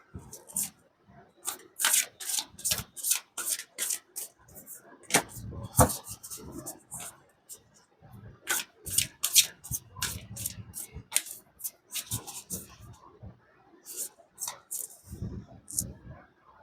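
Tarot cards shuffled and drawn by hand in a close, quiet setting, giving a steady run of crisp papery flicks and riffles in bursts, with soft thumps of cards being laid down and pauses between.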